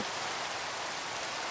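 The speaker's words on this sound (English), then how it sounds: "And of course it's raining" Steady rain falls in a building video game, a dense, even hiss of drops spread across the whole clip with no talking.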